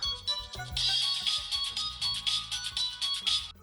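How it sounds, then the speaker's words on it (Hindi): A mobile phone ringtone plays a bright, repeating electronic melody at moderate loudness in an office on a Sunday, ringing continuously without talk over it. "सबके फोन इतने क्यों बज रहे हैं?"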